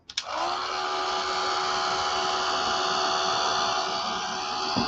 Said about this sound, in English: Let me get my dryer.